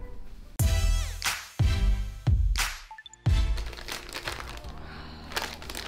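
A plastic bag crinkles sharply in a few loud bursts of rustling and crackling, each burst fading before the next, with quieter handling noise between them indoors.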